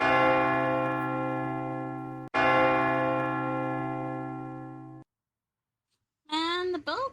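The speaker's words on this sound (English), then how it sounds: "And the bell keeps fucking changing." Bell in a video game, two long sustained tolls, each ringing for a couple of seconds before dying out, followed by silence and then a brief burst of a voice.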